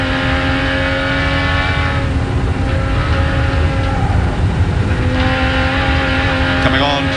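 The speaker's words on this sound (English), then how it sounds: "Walkinshaw working at the wheel through Toledo Turn across the top of the mountain now at Castrol and McPhillamy Park" A 1985 TWR Jaguar XJ-S V12 race car screams on a racing lap across the top of Mount Panorama at Bathurst. Loud, steady in-car engine roar holds throughout with shifting harmonics, and faint commentary runs beneath it.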